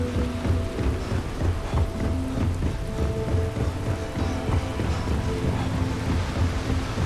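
A thunder and lightning storm in Starfield's lightning-powered city of Neon: rolling thunder rumbles over a steady wash of heavy rain, loud and continuous, with no voices.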